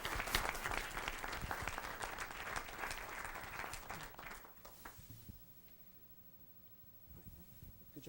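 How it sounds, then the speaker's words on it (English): Loud audience applause for Bissell students at a Board of Education meeting, dense clapping for about five seconds, then fading to scattered claps and low room murmur. "One more round of applause for these wonderful Bissell students."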